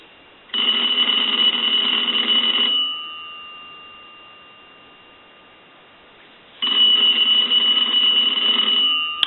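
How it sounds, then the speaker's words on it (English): Old single-slot payphone bell ringing in two loud, sustained bursts of metallic clanging, each a couple of seconds long, separated by a pause filled with a fading ring-out tone. "we want to go ahead and ring the telephone"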